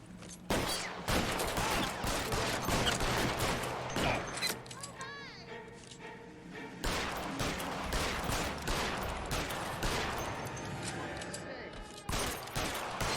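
Enemy rifle fire in a shootout in the L.A. Noire video game, with dense, sustained bursts of gunfire filling the scene nearly nonstop, separated by brief lulls, while someone talks over the shooting.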